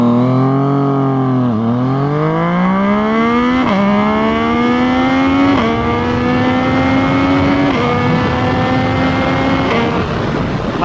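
A Yamaha FZ-09 motorcycle accelerates hard from a standstill, the engine note climbing in loud sweeping pitch rises broken by several quick gear shifts, steady and close throughout.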